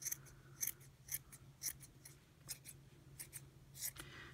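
Small scissors trimming a yarn pompom, a quick series of soft crisp snips at an irregular rhythm, close and quiet with no talking.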